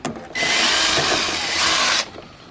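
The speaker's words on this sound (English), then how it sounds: "So we're going to drill a hole." A power drill whirs loudly for about two seconds drilling a hole in a rain barrel, spinning up sharply, holding a steady high whine, then cutting off.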